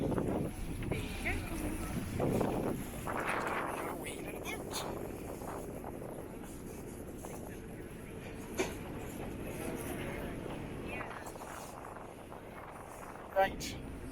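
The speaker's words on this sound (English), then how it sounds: "we're getting on the wee boat" A small passenger boat crossing open sea off the North Coast of Northern Ireland toward Rathlin Island, its low engine drone and water rush buffeted by heavy wind noise on the microphone, with some talk and brief bumps.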